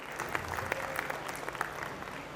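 A Rotary gathering's audience claps in a soft, fairly distant patter, scattered hand claps over a low room murmur for a couple of seconds.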